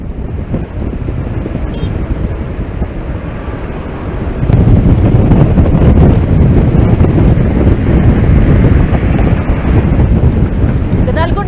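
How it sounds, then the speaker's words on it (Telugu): Flood water pours through the twenty-six raised crest gates of the Nagarjuna Sagar dam, a continuous roaring rush that swells louder partway through, buffeted by wind on the microphone. "ఇరవై ఆరు క్రస్ట్ గేట్లను ఎత్తి నీటిని దిగువకు విడుదల చేస్తూ ఉన్నారు అధికారులు"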